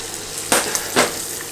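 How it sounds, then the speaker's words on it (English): Bacon, sausage and mushroom offcuts stir-fried in a pan for eight treasure rice, with a steady sizzle broken by two louder bursts of scraping and stirring close by. "Give it a little stir."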